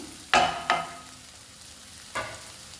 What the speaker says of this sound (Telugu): ఎగ్స్ను కూడా ఫ్రై చేసుకోవాలి మనం